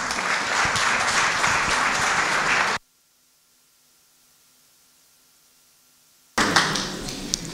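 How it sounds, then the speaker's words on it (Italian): Audience applause for a singer at a film festival evening in Ruvo del Monte, Basilicata; a dense, steady wash of clapping breaks off into near silence, then swells back up loud toward the end. "Un applauso."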